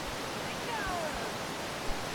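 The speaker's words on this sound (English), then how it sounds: "Just spending time and hearing the water run." Running water in Yosemite National Park gives off a steady, broadband rushing hiss like a nearby stream or falls, unchanging and moderately loud, with a brief faint tap near the end.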